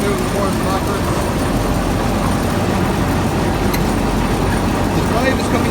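A Deutz Fahr 1600H combine harvester runs during repair, its mechanism driving a rocking seesaw assembly, giving a steady, loud mechanical drone and rattle; someone talks over it.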